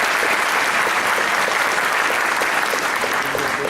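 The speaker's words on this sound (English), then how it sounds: "One more round of applause for Angie." Conference audience at an economic summit applauding, a dense, loud, continuous wash of clapping from many hands filling the whole short stretch.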